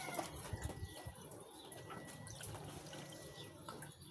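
Water splashing and trickling steadily as it is poured into a Toyota Vios Gen 3 radiator, with a continuous liquid rush and a few faint knocks near the start.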